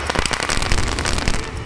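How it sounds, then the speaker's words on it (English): A firecracker sets off a dense, sustained burst of crackling pops lasting nearly two seconds, loud and close, with sharp rapid reports and no talking. "I used a firecracker to simulate this"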